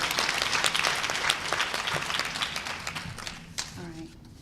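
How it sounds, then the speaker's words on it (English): An audience at a primary-care quality awards event claps for a group of doctors. The dense, steady applause thins out toward the end as a voice begins. "Y'all please give them some applause."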